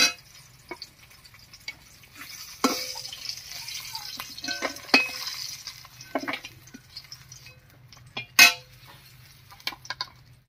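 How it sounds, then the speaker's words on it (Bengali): Whole cumin and coriander seeds hit hot fish-frying oil in a pan, giving soft intermittent crackles and sizzle bursts with occasional clinks, close and fairly quiet, no voices. "এবার এই মাছ ভাজার তেলের মধ্যে একটু মশলা ভেজে নেব"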